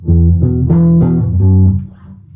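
Electric bass playing the riff from a song: a handful of loud, close plucked notes in a short rhythmic phrase, then decaying into quiet, with no talking.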